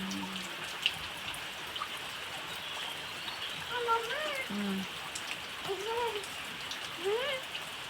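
Heavy monsoon rain in Konkan pours down as a steady, dense hiss, with faint voices and a few brief tonal sounds passing over it.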